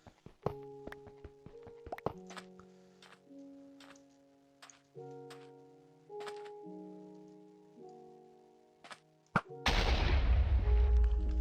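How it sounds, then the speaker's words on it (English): A single heavy video-game gunshot in Weaves of Fate bursts loud and close after a run of soft, chiming musical notes, its noisy roar lingering for about two seconds. "I'm just going to shoot this and move on with my life."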